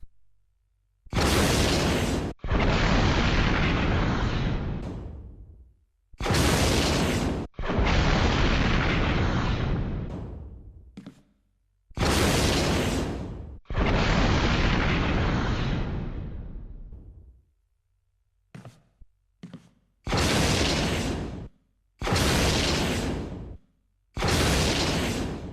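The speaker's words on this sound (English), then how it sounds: "The infinite rocket launcher. Launches fire and forget rockets continuously." Infinite rocket launcher in the Resident Evil REmake, fired repeatedly: each shot a sharp blast followed by a long roaring explosion, about five loud rounds spaced a few seconds apart with silences between.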